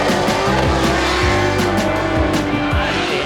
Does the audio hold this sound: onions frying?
no